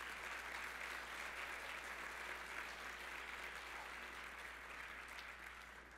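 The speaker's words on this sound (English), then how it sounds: "Please join me in a round of applause" Audience at a conference closing brunch giving a round of applause, a steady, even wash of many hands clapping throughout, fairly distant and uniform with no voices standing out.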